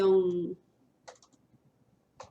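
A few short bursts of computer keyboard typing follow a brief spoken word, light clicky keystrokes in small clusters with quiet gaps between them.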